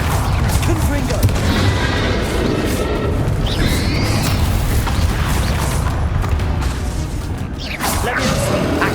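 Confringo blasting curses going off in Hogwarts Legacy during a busy fight, with loud booms and whooshes layered over constant combat noise.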